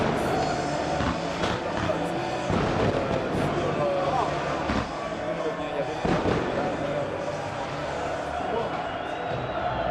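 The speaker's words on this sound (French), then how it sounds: "Ah, le feu d'artifice, magnifique feu d'artifice." Fireworks going off inside a football stadium at an Olympique Lyonnais versus Saint-Étienne match, repeated booms and crackles over a roaring crowd, with a commentator talking throughout.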